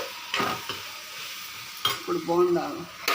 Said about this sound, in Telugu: ఇప్పుడు మనం వేసుకున్న మసాలాలన్నీ కలిసేటట్టు కలుపుకోవాలి.